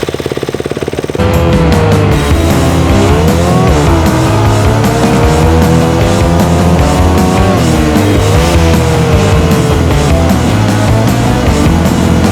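A street-legal motorcycle fires up and revs loudly and continuously, its engine note rising and falling as it pulls away and rides nearby.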